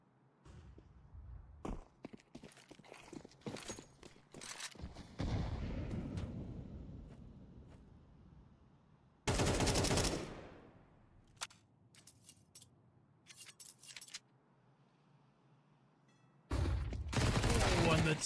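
Gunfire bursts in a Counter-Strike match during a HEROIC x CDKeys Frag Fest playoff game, with sharp shot clusters early on and two dense loud bursts later, under an excited caster's commentary.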